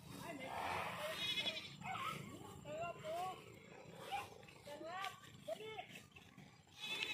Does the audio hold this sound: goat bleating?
yes